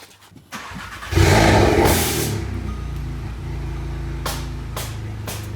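A VW Golf Mk7.5 R turns over and fires up for the first time, a loud cranking catch followed by a rev burst, then settles into a steady idle with a couple of short blips.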